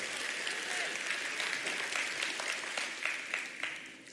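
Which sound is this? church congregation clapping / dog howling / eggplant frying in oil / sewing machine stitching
church congregation clapping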